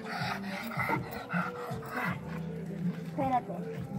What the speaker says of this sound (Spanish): da miedo este perro